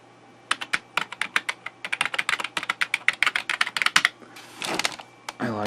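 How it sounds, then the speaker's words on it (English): Brisk typing on a vintage compact computer keyboard, a dense run of crisp, close key clicks in an uneven rhythm, ending with a short rustle of handling noise. "I can type on these really nicely."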